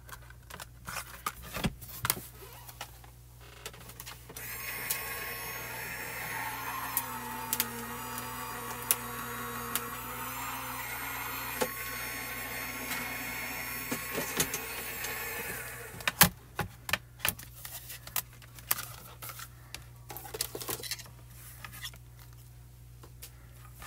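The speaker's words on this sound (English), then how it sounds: "So I'm simply going to die cut this, do my sandwich" A crafting die cutting machine rolls a foil and die sandwich through its rollers, a steady mechanical whirring hum for about ten seconds, framed by clicks and handling clatter before and after.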